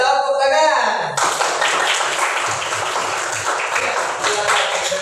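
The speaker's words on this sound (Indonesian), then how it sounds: "Ya, tepuk tangan." Applause from an audience at a group presentation in an Indonesian teacher-training classroom bursts in after a brief voice and then keeps up as dense, loud clapping through to the end.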